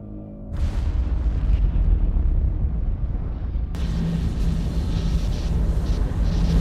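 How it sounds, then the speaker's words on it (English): A Piece of Eden detonates and destroys a lab in the video game Assassin's Creed Syndicate, a loud sustained explosion with a deep rumbling roar that swells sharply partway through and keeps booming to the end. "Piece of Eden detonated and took the lab with it"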